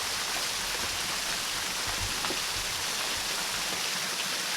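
A waterfall pours continuously, a dense, steady rushing wash filling the whole range at a constant loud level, with no voices.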